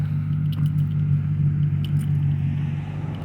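A 1994 Ford Thunderbird LX V8 with a muffler delete idles on a cold start, giving a loud, steady low rumble with a lumpy pulse that runs throughout without talk.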